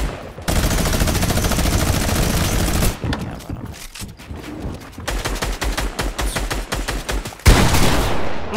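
Rapid bursts of video game gunfire crackle loud and close in a shooter match, dense automatic volleys broken by brief pauses and a final sharp blast near the end.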